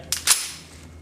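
Two sharp gunshots from a Kel-Tec PF-9 pistol, close and loud, the second following a fraction of a second after the first, each ending in a short ringing decay.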